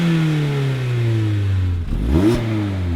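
A 2019 Mazda MX-5 Miata engine with its revised muffler revs down smoothly, then blips sharply up and falls again, a loud, close exhaust note with no talk.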